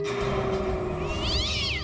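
A black cat growls and yowls indoors, a close, drawn-out tonal cry that rises near the end, with nothing else heard.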